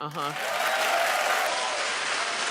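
A studio audience at a talk show claps loudly and continuously, dense and even throughout, with a brief voice or cheer at the start.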